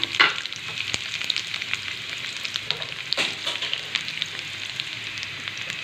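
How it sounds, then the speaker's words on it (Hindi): Chopped onions fry in a pan with a continuous close sizzle and crackle, while scattered stirring clicks and scrapes break through, and no one speaks. "अब इसमें हम प्याज कटी हुई डाल देंगे।"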